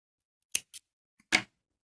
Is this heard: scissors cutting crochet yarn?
yes